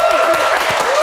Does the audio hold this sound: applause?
yes